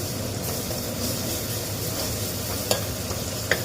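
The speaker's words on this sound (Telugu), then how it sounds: "పచ్చి వాసన అయ్యేదాకా ఫ్రై చేసుకోవాలి." Ginger-garlic paste fries with browned onions for a goat leg curry, producing a dense, steady sizzle close by, with two brief sharp spoon knocks near the end.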